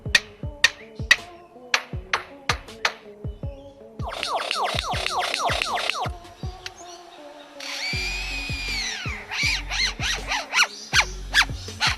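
A bird mimicking workshop tools, with sharp repeated hammer-like knocks, a burst of rasping saw-like strokes, then a whining drill-like buzz, crisp and close with no voices.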